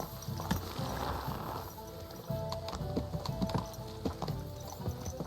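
Horse hooves clip-clop steadily at a walking pace in the medieval game Kingdom Come: Deliverance 2, a close, even rhythm of hoof falls over faint ambient background, without talk.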